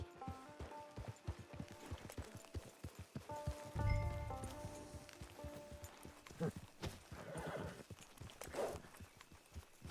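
Steady clip-clop of horse hooves at a walking pace, with a snorting whinny midway and faint rain-like patter in the background, from the video game Red Dead Redemption 2 Online.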